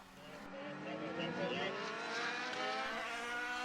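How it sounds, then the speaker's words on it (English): Formula BOSS single-seater race cars, including a 2000cc Dallara F3 and a 4000cc Gould, scream past with rising, sweeping engine notes that stay loud and continuous throughout. "Michael Roche with half their engine capacity third in the 2000cc Dallara F3."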